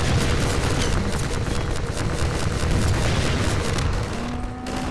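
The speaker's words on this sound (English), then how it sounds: "Let me shoot you with rockets, because that's what I got." Rocket launcher explosions and rapid weapon fire from the video game Half-Life 2 roar continuously at close range, a dense, loud barrage of booms that stays steady throughout and eases slightly near the end.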